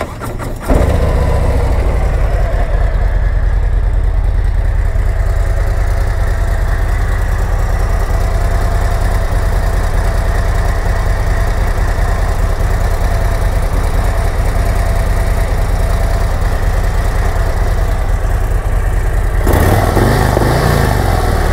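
A Harley-Davidson CVO Road Glide ST engine idles loudly and close, a steady low throb running throughout with a slight rise near the end.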